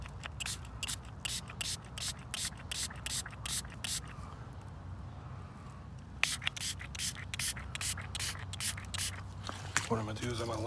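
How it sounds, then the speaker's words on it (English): Water sprays in bursts over a freshly dug-up silver coin, a rapid series of hissing jets with short pauses, close and fairly loud, with a quieter stretch midway before the spraying resumes. "So I'm gonna spray it off a little bit."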